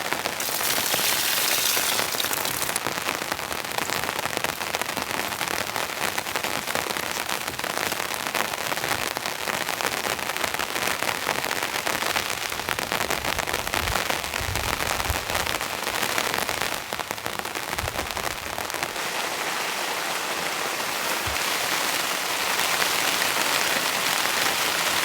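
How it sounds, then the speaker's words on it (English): Steady, thick rain drums on a tent at a campsite, a dense continuous patter that stays loud and even throughout with no voices. "This rain's fully set in now. It's not super heavy, but it's pretty thick and consistent."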